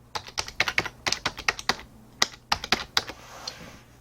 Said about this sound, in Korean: 카드 번호를 입력하고 저도 진짜 입력해 보도록 하겠습니다